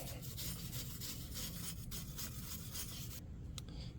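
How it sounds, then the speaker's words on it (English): A wire brush scrubs around the brake caliper area of a Jeep Cherokee, a close, steady, gritty rasp of quick back-and-forth strokes that continues without pause. "We're gonna take a wire brush and we'll clean this whole area up."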